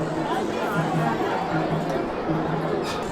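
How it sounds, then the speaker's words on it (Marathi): A dense crowd murmurs in a packed queue at the Ekvira temple, voices overlapping in a steady, close hubbub with no single speaker standing out. "गर्दी बघा किती जास्त आहे म्हणजे ही नॉर्मल लाईन आहे"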